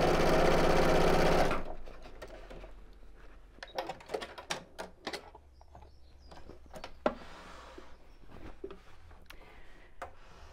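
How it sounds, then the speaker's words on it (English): A home sewing machine without a free arm stitches a viscose bag from the inside. After a short loud burst of noise, it gives a string of quiet, uneven mechanical clicks and taps. "because I don't have a free arm on my sewing machine, I'll be sewing from the inside"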